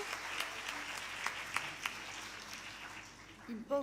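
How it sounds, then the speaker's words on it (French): Audience applause for Sister Angela at an introductory session: a faint, distant patter of clapping from a crowd with a few sharper claps, and a voice coming in at the end. "De toute façon, on peut l'applaudir"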